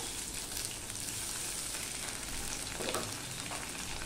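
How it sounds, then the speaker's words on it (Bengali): Potatoes, onions and ginger paste fry in hot oil, a continuous soft crackling sizzle that stays even throughout with a slight swell near the end, no one speaking. "দিয়ে আলু পেঁয়াজটা আমি ভালো করে ভেজে নেব।"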